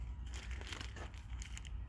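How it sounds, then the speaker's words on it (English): A plastic bag holding an adhesive Toyota car emblem crinkles close up, a dense run of sharp crackles and rustles with a few louder crunches, no voices. "A lot of times they'll come in a plastic bag like this"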